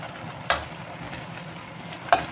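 Bihon noodles fry in a pan with a continuous crackling sizzle, punctuated by two sharp scraping knocks as a utensil stirs them, close and clear with no voices.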